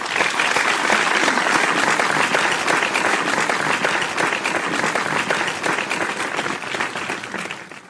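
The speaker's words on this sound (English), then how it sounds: "I love that clapping." Audience applause after a virtual talk on recovery from alcohol use disorder, dense loud clapping from many people sustained throughout and easing slightly at the end, no talk.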